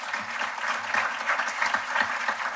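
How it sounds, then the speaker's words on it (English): A crowd applauds a graduate again at the Bermuda College graduation ceremony. The clapping is steady and fairly distant, with a roomy, even texture that lasts the whole short stretch. "let's give her another round of applause."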